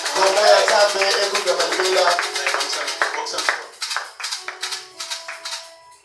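Congregation in a church service clapping rhythmically together, dense hand claps blending with voices and music, loud and busy at first, then thinning into scattered claps as it fades.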